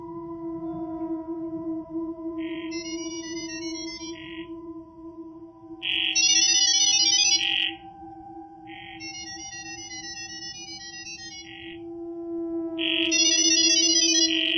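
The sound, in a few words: AI data-over-sound audio signals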